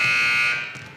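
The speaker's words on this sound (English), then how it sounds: "And the first buzzer sounds" A loud, steady electronic buzzer blares at a girls' varsity high school basketball game against Medfield, holding for about half a second before tapering off.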